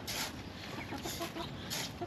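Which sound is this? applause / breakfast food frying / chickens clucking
chickens clucking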